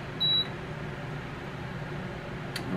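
An Aroma rice cooker gives a single short electronic beep as its risotto setting is selected, followed by a fainter second blip over a steady low room hum.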